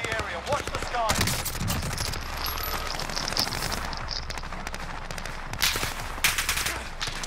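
Sustained automatic gunfire and scattered shots from Call of Duty: Modern Warfare fill the scene, dense and loud, with distant battle noise and brief voice chatter mixed in.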